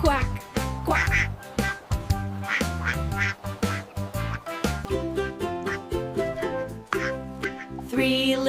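Sung quacking, a voice imitating a duck's repeated quacks over a bouncy musical backing, steady and loud throughout.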